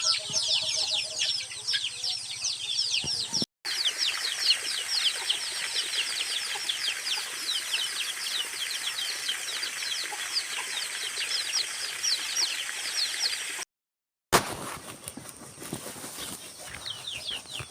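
Backyard chickens at feeding time cluck and chatter in a dense, continuous chorus, with bursts of wing flapping and brief drops to silence between stretches.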